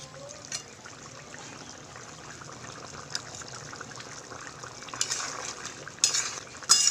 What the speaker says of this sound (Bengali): ঝোলটা ভালো করে ফুটে গেছে।